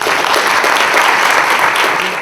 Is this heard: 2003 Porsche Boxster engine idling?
no